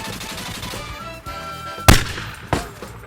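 Two sharp airsoft sniper rifle shots cracking outdoors, the first louder and the second about half a second later, over a steady background hum with no voices.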